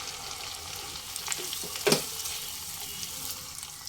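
Masala of yogurt, fried onion, nut and green chilli paste sizzles and is stirred in a pan while cooking a Bengali bhetki fish dish, a steady soft frying hiss with a brief louder stir scrape near the middle.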